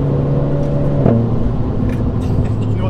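Renault Clio 4 RS Trophy engine droning steadily while driving, a continuous loud hum with a brief shift in pitch near the middle, heard from inside the car.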